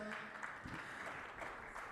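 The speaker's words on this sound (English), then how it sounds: "let's give them a massive round of applause" Faint applause from a panel discussion audience, a soft patter of clapping hands under a quiet murmur of voices.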